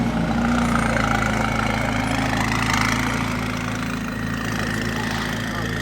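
Supercar idling through an aftermarket exhaust at a Monaco motor show, a steady low rumbling burble with a faint lumpy pulse, crowd chatter in the background.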